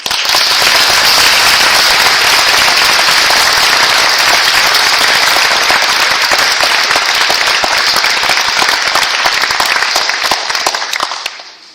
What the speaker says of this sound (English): would you please join me in a round of applause for all 30 of these amazing volunteer nurses.